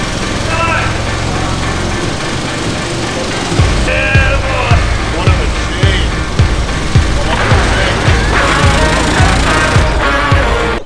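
A lifted Ford AU Falcon converted into a monster truck runs loud and close; the rough engine is burning oil and gives a steady roar with regular throbbing pulses through the second half.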